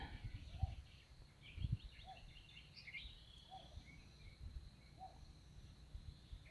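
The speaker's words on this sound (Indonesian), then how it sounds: "Saya mendengar ada suara satwa. Kayaknya itu suara burung." Faint bird calls repeat at regular intervals over a quiet, cold early-morning outdoor background on Mount Merapi, distant and soft, with a low insect hum throughout.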